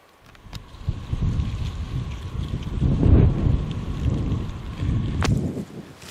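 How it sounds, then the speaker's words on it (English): Breezy wind gusts outdoors on a warm February day, rumbling across the microphone in rising and falling waves, with a few faint clicks. "Breezy 70-degree day here in February."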